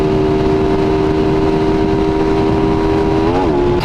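A Suzuki Raider 150 Fi motorcycle with a modified stock muffler holds a steady, loud, close engine drone, then briefly rises in a short rev near the end.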